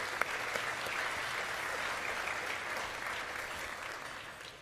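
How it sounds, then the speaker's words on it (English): Audience at a Bank of Canada event gives a round of applause, dense steady clapping from many hands that holds evenly for several seconds before starting to thin out. "So please give yourself a round of applause."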